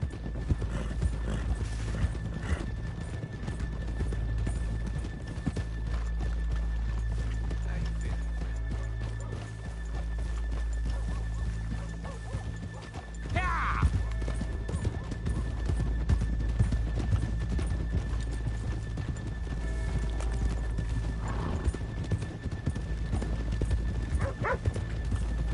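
Horse hooves clip-clop in the Red Dead Redemption 2 video game, a steady walking rhythm with occasional neighs and whinnies over a low ambient bed and no speech.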